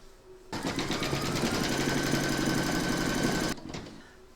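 A steady mechanical needle chatter lasts about three seconds as an embroidery machine stitches batting for a large double-sided Santa applique, with quiet room tone before and after.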